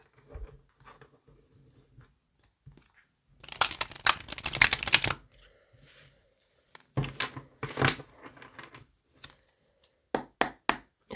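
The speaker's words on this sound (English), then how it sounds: "Let's do one more shuffle, just because." Tarot cards being shuffled by hand in irregular bursts of riffling and tapping, with quiet gaps between and sharp clacks near the end, fairly close and without speech.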